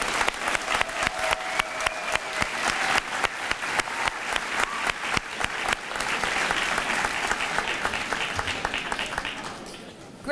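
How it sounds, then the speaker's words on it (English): An audience at a middle school honor society ceremony claps steadily for several seconds, the applause swelling slightly before fading out near the end. "And a round of applause for grade 6, please."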